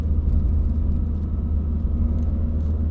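Ford Fiesta ST with an X47R turbo upgrade making 280 wheel horsepower, its engine droning steadily from inside the cabin while driving, a heavy low rumble with no talk.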